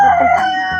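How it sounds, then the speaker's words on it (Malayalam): A chicken in a muddy yard after morning rain gives a short, loud, close call lasting under a second. "കോഴിക്ക് ഇച്ചിരി അരി ഇട്ട് കൊടുക്കട്ടെ"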